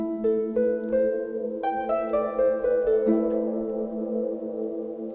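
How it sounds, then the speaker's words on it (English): Electric guitar through a Walrus Audio Slöer pedal with modulation depth maxed, a series of sustained, shimmering chords and notes that swell and overlap, heard up close and alone with no talking. "here's with the depth all the way up on the standard modulation."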